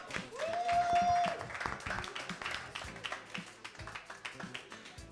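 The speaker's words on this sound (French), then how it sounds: "Oui, on l'applaudit quand même" A live audience at an evening contest show claps for a contestant, with a brief tone at the start, a burst of clapping that thins into scattered taps, and faint voices underneath.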